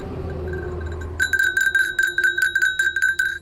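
A small bell rings with a rapid series of bright, tinkling strikes after a second of quiet background hum.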